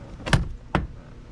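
The passenger door of a 1982 Porsche 928 gives two sharp, close clunks less than half a second apart, first as it opens and then as it shuts, with a quiet background in between.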